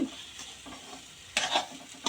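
Semolina for upma is stirred and roasted in a pan, a soft dry scraping and rustling with a louder scrape of the spoon near the end.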